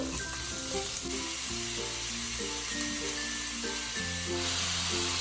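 Onion and garlic fry in a pan with a continuous close sizzle, faint background music running underneath and no voices.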